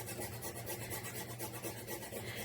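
Fresh nutmeg is rubbed against a grater for a peach slab pie, giving a continuous close raspy scraping in quick repeated strokes, with no talking.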